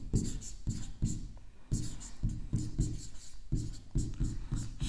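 Chalk or pen writing on a board in a general-knowledge lesson, heard as a rapid series of close, scratchy strokes and taps in short bursts with brief pauses between words.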